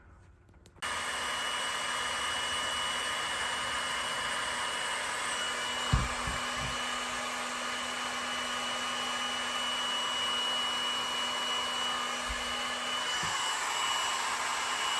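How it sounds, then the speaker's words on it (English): A heat gun blows hot air onto connectors joining wires during an RV roof vent upgrade. It switches on abruptly and holds a steady, close whooshing drone with a constant tone, broken by a couple of brief handling knocks. "slip the other wire in and heat it with a heat gun"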